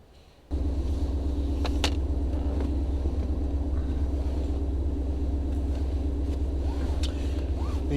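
A 2017 Mustang GT 5.0 with automatic transmission, headers, catted exhaust and intake sits on a dyno. The engine abruptly starts into a loud, deep, steady idle rumble that holds throughout, with faint clicks and brief distant sounds above it.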